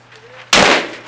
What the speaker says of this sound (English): You want to shoot the handgun